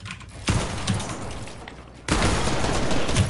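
Video game gunfire: two sudden loud bursts of rapid shots, each followed by sustained rattling fire, close and dense, with faint talk underneath.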